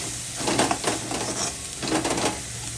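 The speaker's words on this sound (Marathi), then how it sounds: "तेल सुटपर्यंत मसाला फ्राय करायचा मस्त मंद आचेवर." Red masala spice paste sizzles and fries in hot oil over low heat for a chicken gravy, a soft crackle punctuated by a few stirring scrapes in the pan, with no talk.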